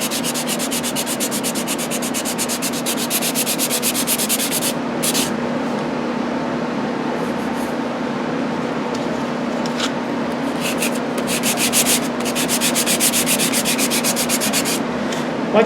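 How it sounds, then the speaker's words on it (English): Sandpaper rubs by hand along a wooden Native American flute in steady back-and-forth strokes, a close, continuous dry scratching with a few sharper bursts, and nobody speaks over it. "What you want to do is hold that sandpaper up."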